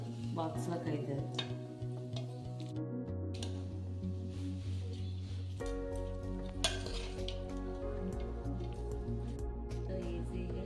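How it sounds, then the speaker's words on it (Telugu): Grated carrot is stirred into rice in a pan for carrot pulihora, with scraping, clinking utensil strokes repeating throughout over a steady tonal background. "క్యారెట్ది రైస్లో వేసి కలుపుకుందాం."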